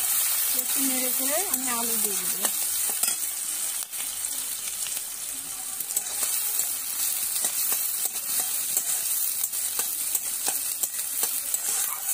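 Bay leaves sizzling and frying in hot oil in a pan, a steady loud crackle and hiss throughout, with a brief voice-like tonal sound early on.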